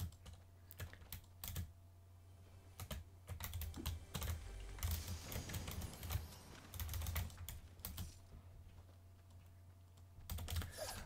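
Rapid clicky typing on a Corsair K70 keyboard with speed switches, bursts of keystrokes clattering close and quietly over a low steady hum, with no talking.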